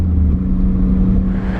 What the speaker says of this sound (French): On se retrouve encore derrière une voiture, ce coup-ci Diablo du rallye.